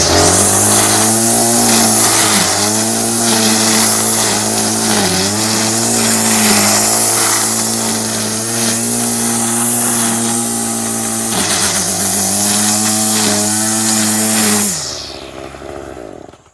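A Craftsman curved shaft string trimmer, fitted with a universal head and line let out, runs at a steady loud two-stroke buzz, with brief throttle dips, before cutting off near the end.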